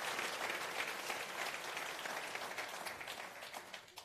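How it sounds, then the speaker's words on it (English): A crowd at an Atlassian co-founder's Q&A session at Spark Festival applauds in a dense, continuous wash of clapping, fairly quiet and gradually tapering off. "can we give Scott a round of applause?"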